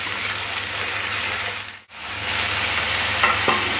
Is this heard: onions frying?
yes